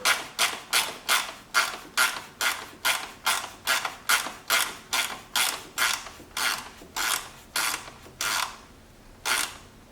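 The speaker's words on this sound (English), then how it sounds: "you can just use a wrench if you needed to. Just to tighten it up" A wrench ratchets while tightening a bolt on the engine cover of a C8 Corvette Z06, making a close, regular series of about twenty sharp clicking swings that slow slightly toward the end, with no talking.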